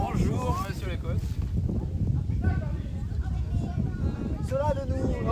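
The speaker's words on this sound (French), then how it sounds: "Oh, le vent." Wind buffets the microphone at an outdoor youth (12U) baseball game between Angoulême/Limoges and La Rochelle, a steady low rumble running throughout beneath continuous talk from nearby people.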